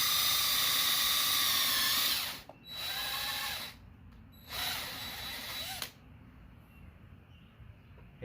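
A power drill bores into wood to build a carpenter bee trap, whining steadily in three bursts separated by short pauses, close and fairly loud, then stopping.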